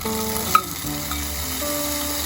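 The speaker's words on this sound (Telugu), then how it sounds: "కొంచెం ఇంగువ కూడా వేసేసి కొంచెం కరివేపాకు కూడా వేసేసి" Asafoetida and curry leaves sizzle in hot oil as a tempering for roasted-gram coconut chutney, a loud, steady close frying crackle with a sharp pop near the start.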